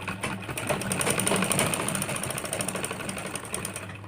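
A sewing machine stitches down the pleats of a princess-cut belt blouse with a rapid, steady mechanical patter, close and continuous, with slight speed changes and no voices.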